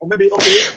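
A single brief sneeze bursts out during a group business coaching session, sharp and close, with people talking around it.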